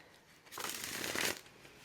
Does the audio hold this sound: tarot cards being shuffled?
yes